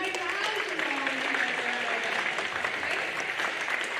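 Applause and cheering from students at a school recognition assembly, a steady wash of clapping mixed with crowd voices and shouts, fairly distant and reverberant.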